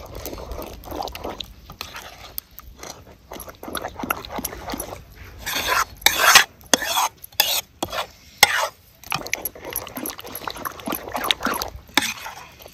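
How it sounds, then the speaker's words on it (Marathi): Leafy chakwat (bathua) vegetable bhaji being stirred and mixed with raw ground chutney in a pan, close and loud, with repeated scraping strokes over a soft sizzle; no talking. "ही कच्ची चटणी आपल्याला ह्या भाजीत टाकायची आणि परत मिक्स करून घ्यायचं"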